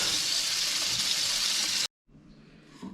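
Tap water runs hard over canned beans in a sink, a loud steady gush that cuts off abruptly, followed by softer clattering and splashing as the beans are handled.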